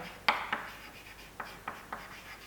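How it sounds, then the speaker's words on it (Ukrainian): A chemistry formula being written out by hand, heard as about six short, quiet scratchy strokes separated by brief pauses, close by and with no talking. "І так пишемо формулу."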